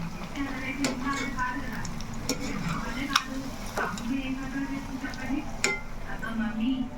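Egg bajji fritters frying in hot oil, a continuous close crackling sizzle with occasional clinks of a utensil against the pan, a voice speaking over it.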